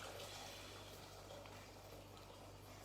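Boiled kettle water pours steadily into a pan for pasta, a continuous soft rushing splash that stays even throughout, faint and close with no talking.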